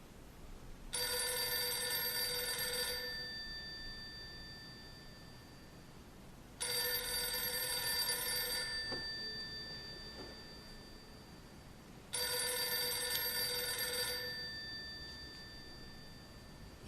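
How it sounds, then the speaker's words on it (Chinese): An old-style telephone rings three times in a slow, even pattern, each electronic ring lasting a couple of seconds and then fading, with quiet gaps between and no talking. "有电话。"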